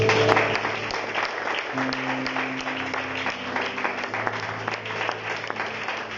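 A church congregation applauds for Jesus, a dense, steady wash of clapping from many hands that continues for several seconds, with faint voices and cheers blended underneath.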